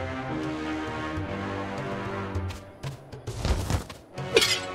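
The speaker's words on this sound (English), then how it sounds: "Ah, great! You really smashed that object!" Objects smashed in the Hotel Transylvania video game: a few sharp breaking crashes and thuds that come in quick bursts near the end, over steady game music.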